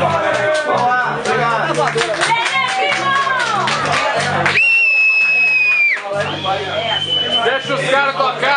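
Loud crowd cheering, whooping and shouting at a motorcycle club get-together in Bom Jesus do Norte, dense and continuous throughout, with music or a high sustained tone cutting through midway and voices mixed in.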